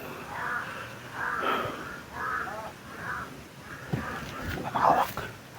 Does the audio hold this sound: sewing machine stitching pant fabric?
no